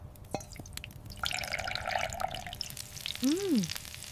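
Oil crackles and sizzles steadily in a hot wok in a miniature kitchen, with a soft hiss throughout and a brief voice near the end.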